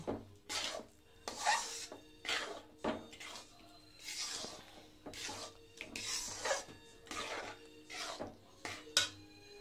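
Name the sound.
kneading semolina dough by hand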